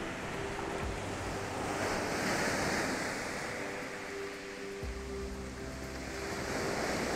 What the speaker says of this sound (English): Oh, you can't beat crashing waves, what a sound.